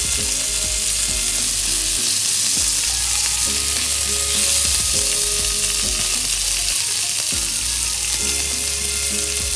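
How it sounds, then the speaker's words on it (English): Norwegian mackerel fries in a pan, Indian style, with a loud, continuous close-up sizzle of hot oil, broken now and then by low scraping and turning sounds. "turn the fish alternately and see if it's getting fried from the other side"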